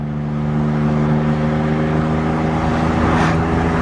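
A BMW Z3 roadster engine at about 3,000 RPM while cruising at 70 mph on the highway, a loud, steady droning hum that holds even throughout with no shifts or pauses.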